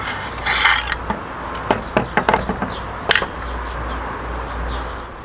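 Metallic clicks and knocks as the bolt is pushed out the back of a Century Arms C308 rifle with the charging handle during field stripping, a close cluster of sharp, irregular mechanical snaps.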